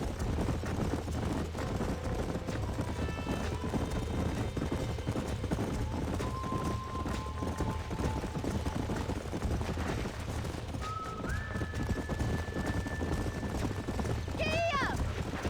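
Horse hooves clip-clop steadily in a Western video game, running continuously under game music, with brief gunfire and characters talking at times.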